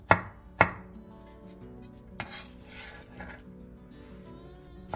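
A knife slices half a red and half a yellow bell pepper into thin julienne strips on a cutting board. Two sharp chops sound near the start, then a softer cut later, with quiet kitchen clatter and cutting between them.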